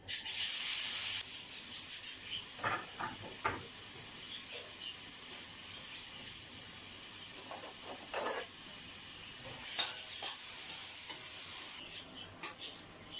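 Onions sizzle steadily in hot oil in a pot, a quiet continuous hiss broken by a few clattering stirs.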